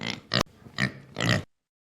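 A pig grunting and oinking in three or four short, close bursts, alone with no talk, ending in silence.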